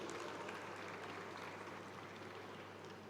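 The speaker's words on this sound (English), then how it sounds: "Let's clap for him, ladies and gentlemen" An audience claps steadily and evenly throughout, a dense, distant wash of applause for a moderator at a live gathering.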